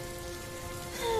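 Steady rain pattering on a surface in a cartoon story, a continuous even hiss with a faint tone rising near the end, no voices.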